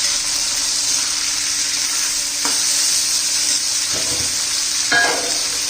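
Asafoetida sizzling in hot oil for tempering a black bean curry, a loud, constant close frying hiss with a few faint clinks and scrapes from stirring.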